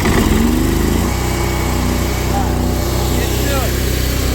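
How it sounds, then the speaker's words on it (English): Gas pressure washer engine for soft washing a house sputters to life and then settles into a steady, loud, throbbing run at close range. "we're gonna go ahead and cut our pressure washer on"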